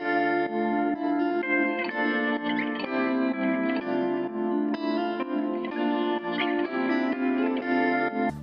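Slowed, pitched-down melodic loop shaped with EQ, pulsing Kickstart-style sidechain rhythm and wide reverb, a steady layered synth texture with shifting harmonics playing on its own.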